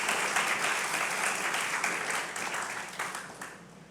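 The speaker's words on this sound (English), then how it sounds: "Can I get a round of applause for 2 wonderful authors that applied their talents to this?" A live-event audience applauds two authors at a moderated talk, with a dense, steady wash of clapping from many hands that fades slightly toward the end.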